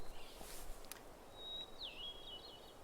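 Fox sparrow singing outdoors at higher elevation, a faint, distant, brief whistled phrase over a quiet hissing ambient background.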